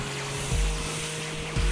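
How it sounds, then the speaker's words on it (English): A synthesizer noise module in a VR synth app, shaped by an envelope, gives a steady roaring wash like crashing metal or ocean surf. Low swells rise around the half-second and 1.6-second marks over a constant hum. "It's making something that sort of sounds like crashing metal, or maybe the ocean"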